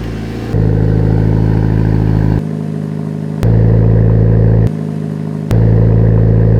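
A Mitsubishi Lancer Evolution VII engine with a modified exhaust repeatedly revs and drops back to a rough idle, with three strong blips of throttle and a raspy, unmuffled exhaust tone.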